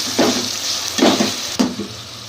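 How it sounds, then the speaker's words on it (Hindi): Beef keema fried in masala for a keema aloo dish, sizzling steadily in the pan with three distinct bursts of stirring scrapes spaced about a second apart, with no talking. "इसको मसाले में अच्छे से मिक्स करते हैं और फ्राई करते हैं"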